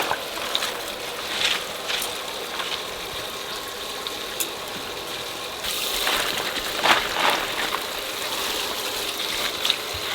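Irrigation water runs steadily over a muddy pea field outdoors, a continuous soft rushing trickle with a faint engine-like hum underneath, swelling a little louder in the second half.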